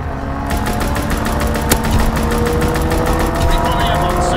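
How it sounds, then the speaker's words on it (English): Rapid automatic gunfire from a strafing aircraft in the video game KC, a steady rattling burst of evenly spaced shots over a continuous engine drone, loud and close throughout. "Strafing run inbound."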